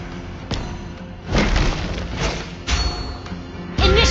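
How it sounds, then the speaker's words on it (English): Turret being destroyed in Mobile Legends: Bang Bang, a series of loud, heavy booms and crashing impacts arriving in separate bursts over a steady game background. "Your team destroyed a turret."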